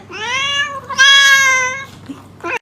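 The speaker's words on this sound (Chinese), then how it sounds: "猫赶紧喵了一下，试图召回人的神智" A house cat gives two clear, drawn-out meows close by, the second louder and more insistent, followed by a brief faint squeak.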